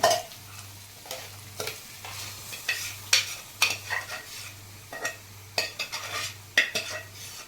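Repeated scraping strokes as pav bhaji vegetables are stirred in a wok over a steady sizzle, with a low electrical hum underneath and no talking.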